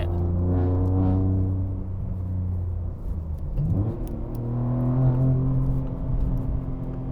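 A BMW G80 M3 with rear-wheel drive and a six-speed manual, on summer tires, accelerates down a road. The engine drone climbs in pitch, drops during a shift, then pulls up again, loud and close.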